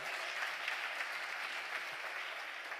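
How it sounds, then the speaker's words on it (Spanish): A church congregation applauds during a Spanish-language sermon, a steady wash of many hands clapping, fairly faint and distant. "Dele un fuerte aplauso."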